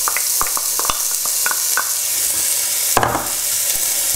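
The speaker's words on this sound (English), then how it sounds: "Now my oil's just come up to heat, so let's start off with the onions." Onions sizzling in hot oil in a pan over medium heat for a shakshuka, with a steady frying hiss broken by repeated close stirring clicks and scrapes and one louder burst of sizzle partway through.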